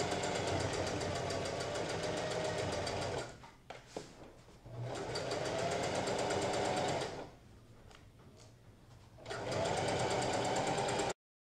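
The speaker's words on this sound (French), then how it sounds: "Je fais un petit point d'arrêt et puis je vais aider la machine." A sewing machine stitches a facing on thick fabric in three long, loud, steady runs of rapid mechanical whirring, separated by brief pauses with small handling clicks.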